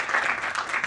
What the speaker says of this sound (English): big round of applause for the youth crews